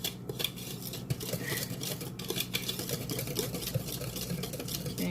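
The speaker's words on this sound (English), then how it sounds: "And then we stir well to a little batter." A spoon stirring peach cobbler batter in a bowl, giving close, uneven scraping and clinking strokes over a low background hum.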